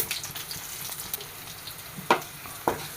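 Quiet sizzle of chana dal frying in hot oil after mustard seeds have popped, with two sharp crackling pops standing out near the end.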